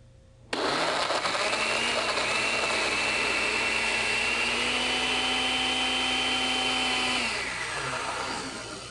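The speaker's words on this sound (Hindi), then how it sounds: "ब्लेंड करें।" A kitchen blender switches on abruptly and whirs loudly and steadily for about seven seconds as it blends mango lassi with ice, then its motor slows and winds down, with no talking.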